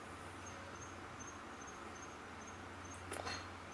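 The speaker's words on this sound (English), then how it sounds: "I hear crickets." Crickets in a jungle just after rain give faint, evenly spaced high chirps that repeat steadily over a low, constant hum, with a brief louder rustle near the end.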